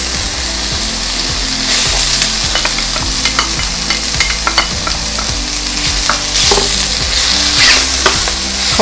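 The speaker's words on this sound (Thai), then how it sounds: "ผัดไปพร้อมๆกันนี่แหละค่ะ ผัดเนี่ยผัดทุกอย่างให้เข้ากันเลยนะคะ" Mushrooms, tofu, carrot and raw corn stir-fried together in a pan, a steady close sizzle with the scrape and clatter of stirring repeating throughout, no talking.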